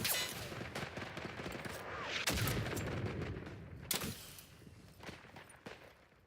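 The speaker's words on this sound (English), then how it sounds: "L'artiglieria sta sparando" Artillery and gunfire in the World War I game Isonzo, a dense continuous rattle of shots with sharper heavy booms standing out, loud then gradually thinning.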